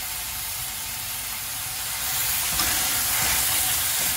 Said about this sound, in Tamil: இதையும் நல்லா வதக்கிக்கோங்க